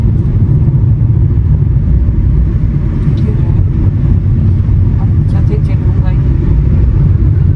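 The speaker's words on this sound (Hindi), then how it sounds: "तो ये रोड नॉइज़ जो है ना, ये आपको कहीं ना कहीं थोड़ी सी जो है मतलब बॉदर कर सकती है" A steady low rumble and roar of tyres on the road fills a moving Skoda Kylaq's cabin, constant and fairly loud, with no talking.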